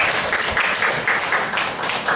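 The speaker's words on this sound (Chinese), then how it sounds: "大家以最热烈的掌声" An audience applauds to welcome a professor at a camp lecture, a dense, even wash of many hands clapping at once, steady and fairly loud throughout.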